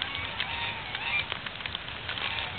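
A large flock of ducks in Ibirapuera Park, São Paulo, gives a dense, overlapping chorus of honking calls at moderate distance, steady throughout with no talk.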